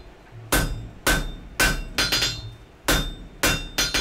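Sharp ringing hammer strikes on an anvil as a reverse taper is forged onto a wrought iron punch, about ten close, loud blows falling in small clusters with short gaps between.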